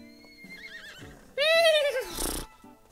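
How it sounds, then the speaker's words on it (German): A horse in the video game Miitopia gives a loud, quavering whinny that rises and falls, preceded by softer game music tones, followed by a brief breathy snort. "Aber nein, es ist ein Pferd."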